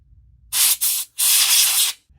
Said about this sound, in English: blow out any dust around the fan or the vents on the side or back of the case while you have it open with some compressed air